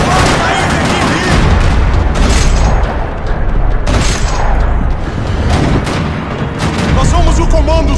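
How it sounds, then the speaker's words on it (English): Sustained gunfire rattles through a parking lot during a gang attack in the Max Payne 3 video game, dense, loud and continuous with booming bursts, with voices mixed in under the shooting. "Another parking lot rattling with gunfire."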